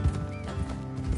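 Horses in a video game clip-clop steadily along as a rider travels, with a neigh rising out partway through; the hooves sound close and continuous throughout the short stretch.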